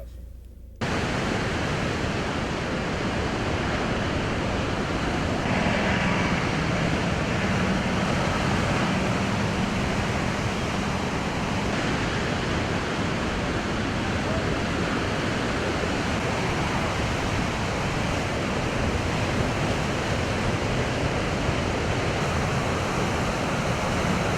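Ocean surf during Hurricane Irene at the south end of an island, a loud continuous roar of waves and wind-blown noise with no breaks.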